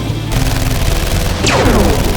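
Rapid bursts of gunfire in a LEGO zombie animation, loud and continuous, with a descending whistle-like streak partway through, no voices.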